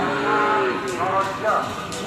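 Cattle low and moo amid a crowd's noisy chatter at a karapan sapi bull race on Sapudi Island, the animal calls rising over a steady background of voices outdoors.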